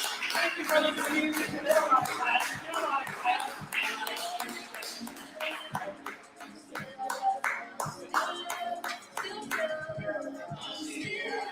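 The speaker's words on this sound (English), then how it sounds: "Keep clapping." Scattered clapping from a high school poetry slam audience, a mix of sharp hand claps, taps and shuffling at moderate distance, uneven and thinning at times, with low murmurs of people in the background.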